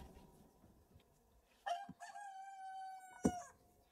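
A rooster crows twice in a fairy-tale stage performance, the long drawn-out calls standing alone and loud over a faint background hum.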